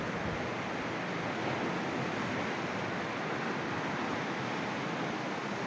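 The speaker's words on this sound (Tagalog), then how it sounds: "Ang lakas ng alon." Strong ocean surf at a beach resort, a continuous broad roar of waves with wind buffeting the microphone, steady and unbroken with no voices.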